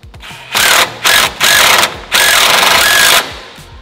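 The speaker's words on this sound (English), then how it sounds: "we're going to use our impact to go right in" An impact driver runs screws for a Zipwake trim system into a boat hull in several loud, close bursts of rapid hammering whir, the last burst longest, with brief pauses between them.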